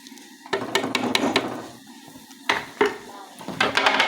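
Carrot pulp being added to a pan and stirred while making carrot kheer, with a spoon knocking and scraping against the metal in uneven bursts, close and moderately loud, with occasional talk.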